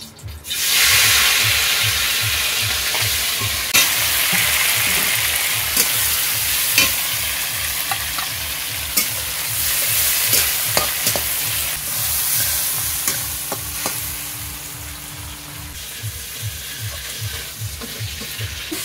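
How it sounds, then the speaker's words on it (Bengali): Prawns frying in hot white oil in a wok, a loud close sizzle with a rapid steady scraping rhythm of stirring underneath, gradually easing toward the end, no talk. "এটা গরম হয়ে গেছে, এবার আমি দিয়ে দিচ্ছি চিংড়ি মাছগুলো।"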